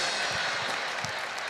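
Audience clapping at a comedy set during a church talk, a brief burst of steady applause with scattered louder claps, fairly close, with no speech over it.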